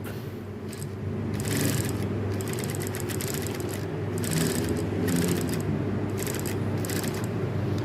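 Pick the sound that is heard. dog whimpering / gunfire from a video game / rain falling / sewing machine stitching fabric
sewing machine stitching fabric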